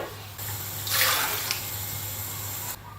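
Two cups of plain water poured into a pot for a sugar syrup: a steady splashing stream that begins after a short pause, swells briefly louder, then runs evenly before stopping near the end, with no talk.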